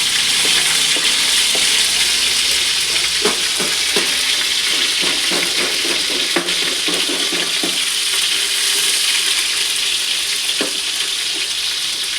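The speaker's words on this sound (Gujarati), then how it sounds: "એમાં આવશે લીલી મરચી અને લીમડાનો વઘારા કરવામાં આવે છે" Green chillies and curry leaves tempering in hot oil for puffed-rice chivda, a loud, continuous close-up sizzle and hiss with scattered crackles and light stirring knocks throughout.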